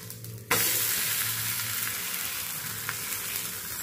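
Instant dal dosa fries in oil on a pan, a steady, close sizzle that jumps in suddenly after a brief quiet moment and then holds evenly, with one small pop near the end.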